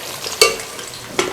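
Rice for sweet dish meethay chawal going into a hot pan and being stirred: two sharp metallic clinks of a spoon against the pan over a soft, continuous sizzle and scraping, close and moderately loud.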